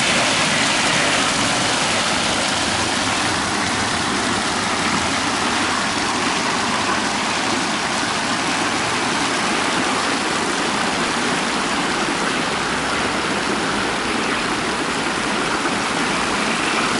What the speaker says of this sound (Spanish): El agua de la fuente y la agua de la zona.